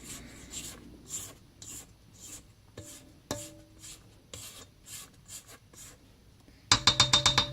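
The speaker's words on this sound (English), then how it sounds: "grab my spatula and scrape my sides in just a little bit to get that loose flour on the sides in" A spatula scrapes loose flour down the sides of a bowl of cookie dough in a string of short, soft, close scraping strokes, followed at the end by a quick burst of sharper clattering taps.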